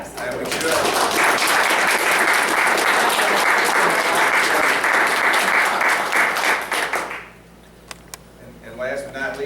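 A school board meeting audience gives loud, sustained applause for about seven seconds, a dense crowd of hands clapping that then stops, leaving a quiet room with a few small knocks and a voice starting up.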